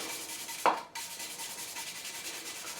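240-grit sandpaper rubbing over the frets of a Gibson SG Standard during a refret, a steady close scratchy hiss running throughout after a brief sharper scrape near the start.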